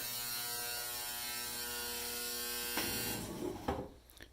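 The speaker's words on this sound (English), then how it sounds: "ridiculously loud washing machine in the background" A loud washing machine runs steadily in the background with a constant mechanical hum and whir, and a few clunks near the end as the drum turns.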